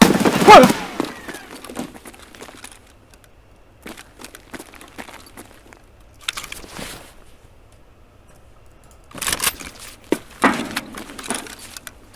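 A Vector fires in Escape from Tarkov in short bursts of sharp shots, loud at the start and again near the end. Faint shuffling and handling noises fill the gaps between bursts.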